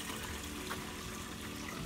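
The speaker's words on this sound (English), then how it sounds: "down below, that is where the water's coming out" Water flowing out from beneath a slate cover at the base of a backyard DIY pond bog filter, a steady close-up gushing trickle that continues without pause.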